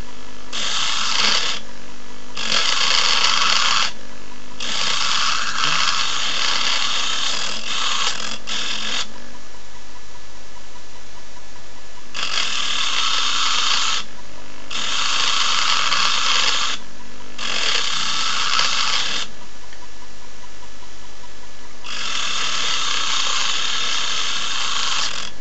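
An electric drill runs in repeated bursts of several seconds each, separated by short pauses, loud and close, while cutting steel rods.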